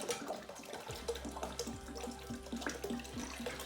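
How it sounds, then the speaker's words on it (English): Water poured and splashing in a steady trickle, with gurgling, dripping and small bubbling runs throughout, fairly close and continuous with no talking. "Love playing with water."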